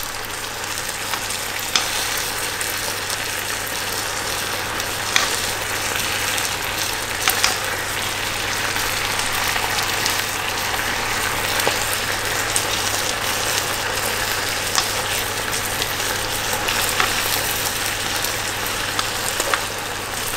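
Teriyaki chicken fries in a pan with a steady, close crackling sizzle that continues for the whole stretch, sputtering slightly unevenly without any talk.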